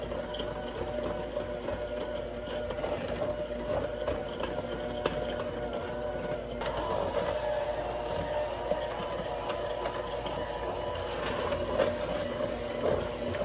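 An electric mixer whirs steadily while blending granulated sugar, espresso powder and a stick and a half of butter for chocolate cupcakes. The motor hums continuously at moderate volume with small rattles and no talking.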